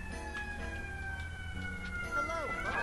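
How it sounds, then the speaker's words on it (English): Emergency vehicle sirens wail faintly and steadily in the distance outside a house, their pitch slowly sweeping and rising near the end, over a low background hum. "As we hear these annoying sirens in the background."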